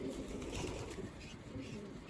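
Pigeons in a loft coo in low, soft, rounded calls that repeat through the moment, fairly close and quiet against a faint background hum, with no one speaking.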